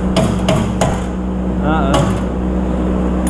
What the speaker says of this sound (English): let's see if we can knock this bolt out